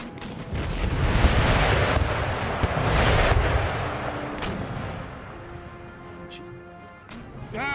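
A ship blowing up during a naval battle in Empire Total War, a loud booming blast with rumbling cannon fire that slowly fades, followed by quieter tonal game sounds.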